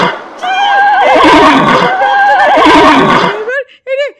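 A horse on a beach whinnying loudly and close, one long wavering neigh followed by short snorting calls, with voices mixed in.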